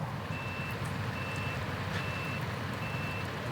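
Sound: truck reversing beeps in video game SnowRunner

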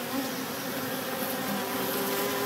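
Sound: honey bees buzzing

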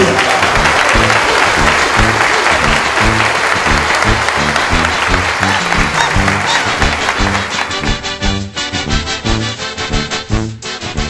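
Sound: applause

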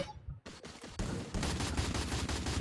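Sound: gunfire in the video game Free Fire

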